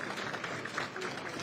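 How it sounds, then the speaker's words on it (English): Scattered applause from a small crowd of about 610 at a Brighton & Hove Albion versus Horsham football match as a player is carried off on a stretcher, a soft, steady patter of distant clapping. "Warm round of applause from 610 in attendance."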